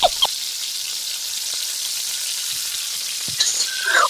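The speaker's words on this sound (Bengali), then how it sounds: "সরিষার তেল দিয়ে কড়াইয়ের মধ্যে ছুঁড়ে ফেলে দেওয়া হলো কড়াইয়ের মধ্যে।" Spice mix frying in mustard oil in a wok gives a steady, bright sizzle throughout, with a few soft clinks near the start and end.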